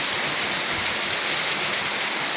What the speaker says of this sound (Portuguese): Obrigado, Deus, por essa chuva maravilhosa